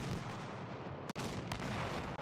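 A tank cannon fires in a video game match, one sharp loud blast cutting through a steady rumbling battle backdrop, followed by a fainter second report.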